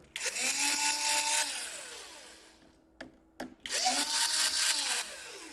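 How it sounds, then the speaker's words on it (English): A small electric screwdriver whines while removing screws from an MSI GE72 6QF laptop, two close, loud bursts of high buzzing motor noise with pitch rising and falling, separated by a pause with a couple of sharp clicks. "remove the 4 screws here"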